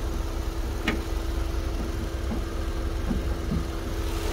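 A 2014 Hyundai i10 with a 1.0-litre engine idles smoothly and steadily as a low, even hum, close by, with a faint brief click partway through and no talk.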